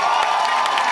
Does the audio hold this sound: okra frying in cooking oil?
no